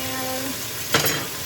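Onions browning in a frying pan for a chicken dinner give a steady, even sizzle, with a brief louder scrape or stir of the pan near the middle.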